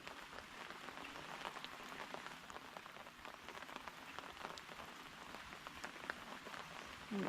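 Heavy rain falls in a rural Filipino setting, a steady dense patter of drops on surfaces that stays even throughout at low level with no voices.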